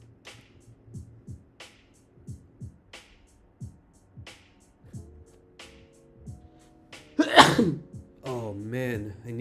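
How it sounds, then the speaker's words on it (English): A person sneezes once with a sharp, loud burst, followed by breathy after-sounds, coming after quieter stretches of talk at a sports betting desk. "Oh man, I needed to sneeze so badly."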